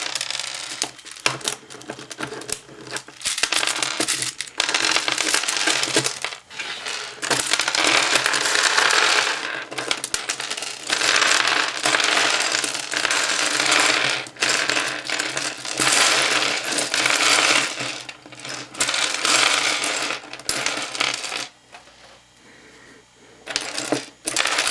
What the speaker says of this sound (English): And now basically you should be able to just turn it and pieces should just come out.